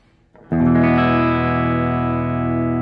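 A single electric guitar chord struck and left ringing, sustaining clearly with a clean, slightly warm amplified tone and gentle reverb after a quiet pick noise; the amplifier played on its own, bridge and neck pickups.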